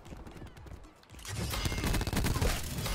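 Gunfire in the video game Call of Duty Black Ops 4, a dense burst of rapid shots and clattering impacts that swells loudly after a quieter opening, with no talk.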